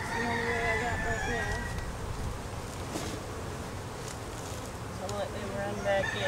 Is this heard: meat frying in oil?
no